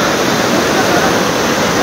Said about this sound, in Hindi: ये वाटरफॉल है जो नेचुरली आ रही है